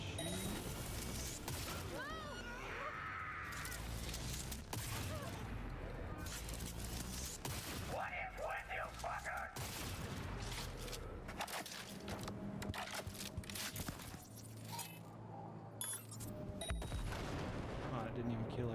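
Rifle gunshots go off in the video game Cyberpunk 2077 as repeated sharp cracks and bursts, mixed with crashes and game effects that run through the whole stretch at moderate level.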